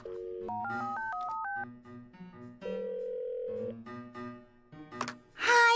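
A telephone keypad is dialed in a rapid run of touch-tones, followed by a long steady tone, more beeps and a short burst at the end.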